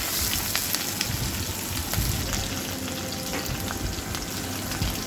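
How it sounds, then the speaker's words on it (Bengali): Onions fry in oil in a wok for a hilsa and Malabar spinach dish, a dense, continuous close sizzle with faint scraping stirs, no talking. "পেঁয়াজ দিয়ে দিচ্ছি"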